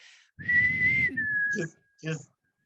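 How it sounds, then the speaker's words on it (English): A single person whistles a short tune up close, a long sustained note sliding down, then two brief chirpy notes with a pause. "I think that might be what I was whistling"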